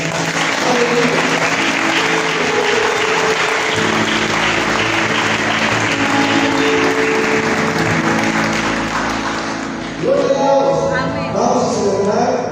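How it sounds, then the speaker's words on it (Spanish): A church congregation at a Sunday service gives loud, sustained applause that fills the room for about ten seconds, then fades as a voice comes in over the last stretch. "Denle un gran aplauso al Señor."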